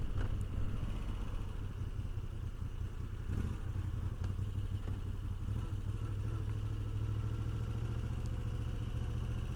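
A Moto Guzzi V85TT adventure motorcycle rides in and parks, its engine a steady low rumble close by with light mechanical clatter and no talk.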